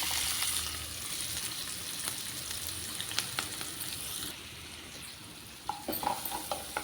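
Onions and green chillies frying in a pan, a steady moderate sizzle with occasional stirring scrapes and a few clinks near the end.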